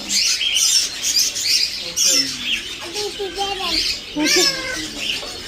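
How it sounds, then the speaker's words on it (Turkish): Lovebirds chirp and squawk inside a pet shop, with bright, rapid, overlapping calls that come in bursts and close up; a person speaks softly among the bird sounds. "Bunlar da sevda papağanı."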